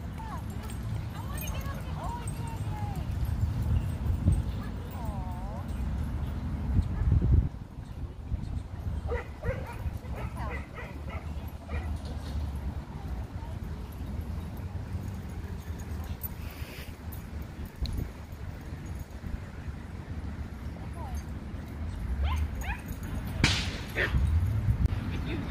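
Small chihuahua giving intermittent yips, whimpers and barks while parked, scattered across steady background noise with occasional people talking nearby.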